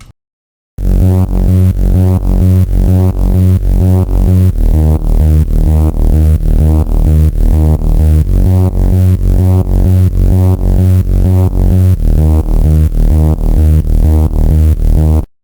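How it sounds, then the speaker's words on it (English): A pulsing synth bass line jumping octaves in a steady rhythmic pattern, its notes shifting between low and higher pitches, loud and alone without any talking. "that's how I got the bass line"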